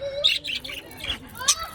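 A parrot gives a run of sharp chirps and squawks, loud and close, and light talk is faintly heard among the calls.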